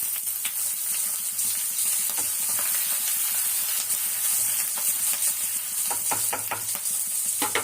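Curry leaves and lentils frying in hot oil for a breakfast chutney tempering, a steady close sizzle with crackling pops and bursts of spattering, no talking.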